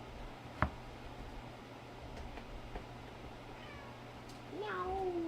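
A cat lets out one drawn-out meow near the end, close and clear over a low steady hum in a quiet room, after a single sharp click.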